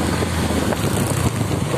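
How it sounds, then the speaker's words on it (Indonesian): Heavy rain pours on a road in Central Java during a ride between Kebumen and Wonosobo, forming a dense, steady roar mixed with wind buffeting at the microphone, loud and unbroken with no voices. "Nih hujannya semakin deras ya teman-teman."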